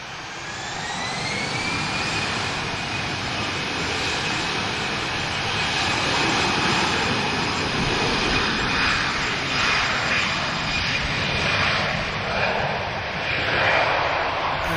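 Jet airliner engines roar steadily at Lisbon Airport, a loud sustained rumble with a rising whine as an airplane powers up and passes, continuous throughout with no talk.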